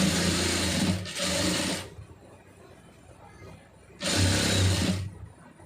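A sewing machine runs in two bursts while stitching a blouse lining, a steady loud whirring hum that stops for about two seconds in between, heard close up.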